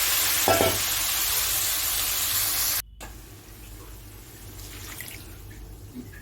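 Small fish mixed with a garlic and chilli paste and salt fry in hot mustard oil in a wok, producing a strong hiss that drops abruptly to a softer, uneven sizzle with light stirring; no speech.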